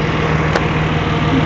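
Under the open hood of a Mercedes W124, the engine idles with a steady, close hum and a faint regular pulse. One short click stands out briefly, and no one speaks.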